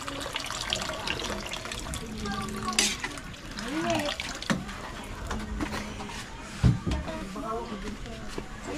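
Water pouring into a cooking pot during vegetable cooking: an uneven splashing, trickling wash runs throughout, with people talking over it and a sharper clatter near the end.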